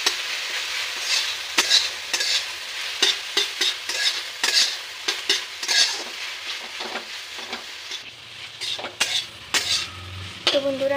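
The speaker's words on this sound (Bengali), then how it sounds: "এখন আমি ভালো মতো নাড়াচাড়া করে নেব।" Spoon stirring turmeric, salt and ground chili paste in a cooking pan, with repeated scraping clinks against the metal and a light sizzle underneath, close and steady with no talking.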